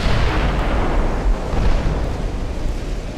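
Enemy naval guns fire on a dreadnought-era warship in a large sea battle game, a loud, sustained roar of heavy overlapping blasts and rumbling impacts throughout, and no one speaks.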